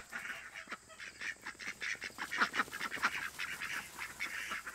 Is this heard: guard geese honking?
yes